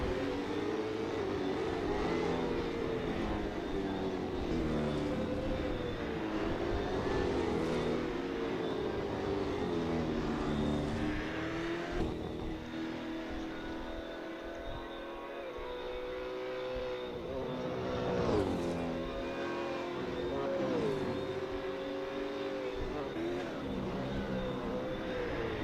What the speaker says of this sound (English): Justin Nasseir laps the entire field once more in his Ford Mustang